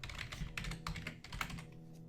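Rapid typing on a computer keyboard, a quick run of light clicking keystrokes at close range with uneven rhythm and no voices.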